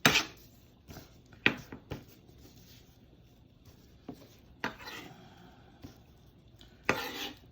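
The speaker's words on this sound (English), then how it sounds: "I'm just gonna just start dicing it like this" Raw tuna diced by hand with a sharp knife on a cutting board, producing irregular close knife taps and thuds, some sharp and loud, separated by quieter pauses.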